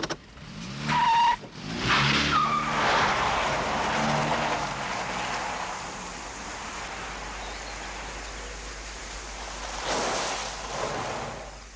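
A flooded car engine cranks and struggles without catching, a close mechanical churn that comes in bursts before fading into a steady dull rumble and background hiss.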